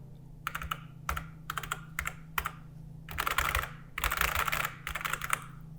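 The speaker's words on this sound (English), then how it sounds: "the keyboard just sounds so amazing" Bursts of clacky key presses on an Apple IIc computer's mechanical keyboard, close and crisp, first in short separate clusters and then in denser runs of fast typing, with no talk.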